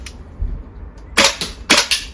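A VFC gas blowback MP5 airsoft gun fires in cold weather: two sharp, close double taps, each a quick pair of cracks, with near-silence before them.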